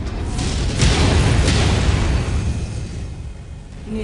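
An incoming missile explodes in MechWarrior 5 during a fortress assault: a loud, close blast with a deep rumbling body that rolls on for about two seconds, then fades into quieter ambient noise.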